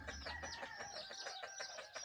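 Chickens and a rooster crowing on a cold early morning in the hills, busy clucking and calls layered in a faint, distant-sounding outdoor scene, no speech.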